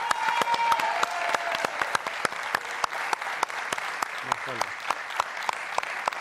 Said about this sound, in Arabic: حب تصفيقة أكبر عليها.